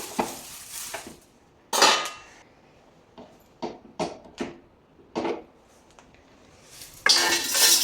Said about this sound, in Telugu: ఇవన్నీ తీసి పక్కన పట్టేసుకుందాం ఈ గిన్నెలోకి మార్చేసుకుందాం